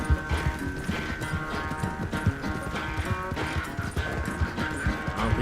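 A horse gallops in Red Dead Redemption 2, its rapid rhythmic hoofbeats drumming steadily throughout over a music bed with tonal game sounds.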